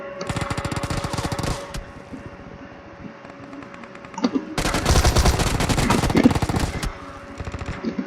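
Rapid automatic gunfire from PUBG Mobile, loud and close, comes in two long sustained bursts of fast repeated shots with a quieter stretch of scattered fire between them.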